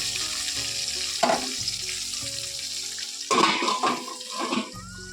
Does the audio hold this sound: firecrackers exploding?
no